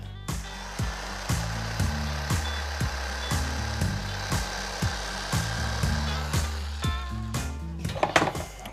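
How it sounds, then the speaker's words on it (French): A jigsaw cutting a wooden furniture leg with a rapid buzzing drone, interrupted by short pauses and repeated bursts, ending in scraping and clatter. "je vais couper mon pied avec une scie sauteuse"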